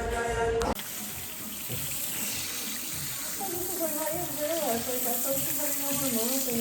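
Tap water runs steadily into a sink while hair dye is rinsed out, a continuous close gush with light splashing and faint voices in the background.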